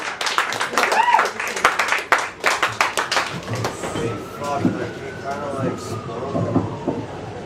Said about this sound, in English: Big round of applause for Zlatomir.